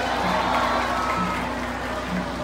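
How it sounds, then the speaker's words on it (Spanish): Applause and crowd noise from mothers gathered at a Mother's Day festival in Gustavo A. Madero, a steady wash of clapping and murmuring crowd over a low background hum. "Un aplauso para ustedes."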